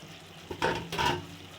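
A spoon stirs grated coconut into chickpeas frying in a pan, with two soft scraping strokes over a faint sizzle, close and quiet.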